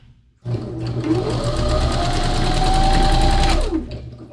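A sewing machine stitching the underarm seam of a stretch-fabric sleeve runs in one continuous burst of about three seconds, its motor whine climbing slightly before stopping, close and clear with no talk.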